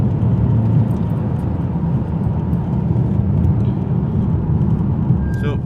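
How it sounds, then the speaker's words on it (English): A lorry drives past a parked Vauxhall Insignia car, giving a loud, steady rumbling roar of passing traffic that fills the whole stretch without breaks. "we'll wait for the lorry to go past"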